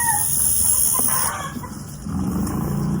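Chicken clucking and crowing nearby, a rooster calling repeatedly over steady insect-like hiss and ambient noise, loud and close with no talking.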